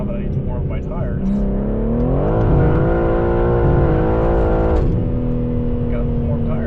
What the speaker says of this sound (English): So now that I need to warm up my tires